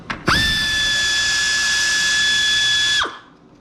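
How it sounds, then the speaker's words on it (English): A power tool spins out a 10mm bolt on a 2005 Jeep Liberty during a radiator replacement, giving one steady, high whine of about three seconds that starts and stops sharply, close and alone. "now we're going to remove the 10mm bolt, which is right here."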